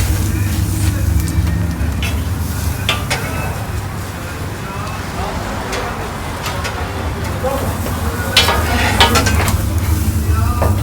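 Toast sizzling in oil on a cast-iron press at a street toast stall in Adana, a steady loud hiss with occasional metallic clinks, while people talk nearby.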